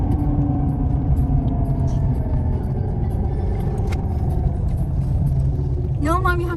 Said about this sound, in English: you have to stop and let cars go